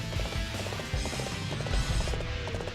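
Horse hooves pound in a steady galloping rhythm amid dense battle-game clamor and music in Dynasty Warriors 8, loud and continuous throughout.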